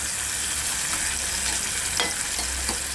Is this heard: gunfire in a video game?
no